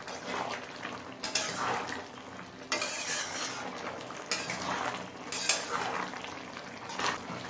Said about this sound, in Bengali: ঢাকা খুলে সবজিতে একটু নাড়াচাড়া করে নিলাম